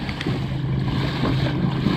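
A Slayer Max boat's engine drones steadily as it speeds over waves, water rushing and splashing around the hull, close and continuous over the short stretch.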